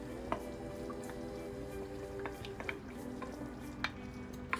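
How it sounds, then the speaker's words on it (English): Palm oil stirred into a Gambian plasas stew thickened with peanut butter gives a steady low bubbling sizzle, punctuated by scattered small clicks and spoon taps against the pot. "there's about a cup of palm oil in this, and I'm gonna go ahead and add it in here"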